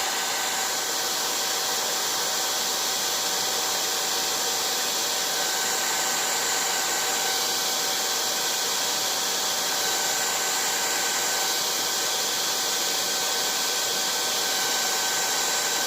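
Heat gun blowing a steady, loud stream of hot air onto a Talon grip to soften it, a continuous uninterrupted whoosh with no voices.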